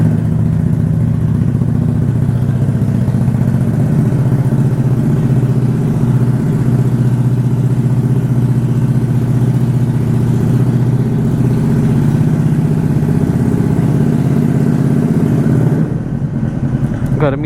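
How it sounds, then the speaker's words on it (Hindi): A TVS Ntorq scooter idles steadily after a cold start, its engine hum close and continuous before cutting off near the end. "लो भाई, बहुत दिनों बाद कोल्ड स्टार्ट सुन लो"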